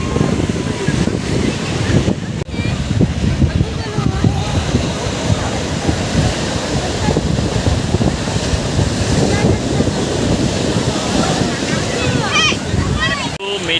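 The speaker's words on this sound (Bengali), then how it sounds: "চলে এসেছি মেরিনা বিচ, মেরিনা বে সাগর পার, সাগরে বেশ উত্তাল ঢেউ।" Rough surf at Marina Beach in Chennai, rolling waves crashing and washing continuously under strong wind buffeting the microphone, loud and close throughout.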